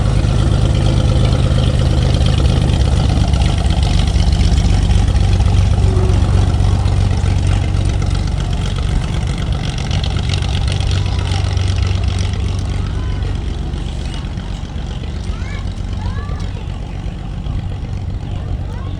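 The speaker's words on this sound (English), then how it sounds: "You're dining just steps away from an active runway, where planes taxi by and lift off" Small propeller aircraft engine droning steadily near an active runway beside a cafe in a former airplane hangar in Chandler, Arizona; the low rumble is loud and continuous throughout, fading slightly toward the end.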